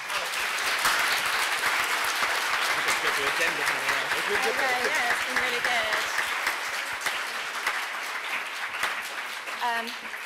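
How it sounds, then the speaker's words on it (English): Applause from a panel audience at a charity online session at Summer in the City 2014, a steady dense wash of clapping filling the whole stretch while a voice talks over it. "Can I have a huge round of applause"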